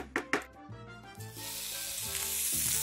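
Onions sizzling in hot oil for a Colombian arepa filling, a few sharp crackles at the start giving way to a steady, close frying hiss that grows louder and denser, with no talking.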